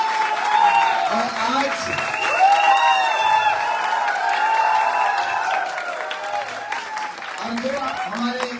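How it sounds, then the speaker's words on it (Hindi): A loud, sustained wave of clapping and some cheering from the crowd at an IMC network-marketing seminar. It carries on for several seconds under music, with a voice speaking over it near the end. "मैं चाहूंगा एक बार जोरदार तालियां हो जाए"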